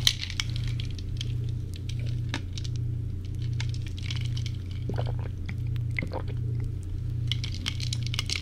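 A glass of ice water is handled close up, with scattered light clinks and taps of ice against glass over a quiet low hum.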